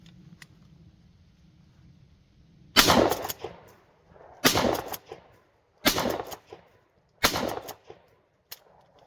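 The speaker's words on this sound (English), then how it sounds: "Cylinder choke, 25 yards, steel target." Mossberg 590 shotgun with a cylinder choke firing at a steel target 25 yards away, four loud, sharp blasts spaced a second or more apart, each followed by a short ringing decay, over faint background hum.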